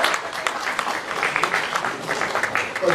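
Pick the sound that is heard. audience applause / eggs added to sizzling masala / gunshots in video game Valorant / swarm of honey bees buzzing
audience applause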